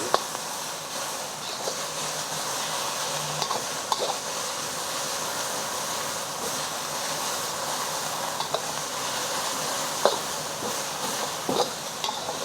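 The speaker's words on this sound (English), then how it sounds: "Just want to stir fry this until you can smell the ginger and garlic" Ginger and garlic stir frying in a pan, a steady bright sizzle with occasional light scrapes and clinks throughout.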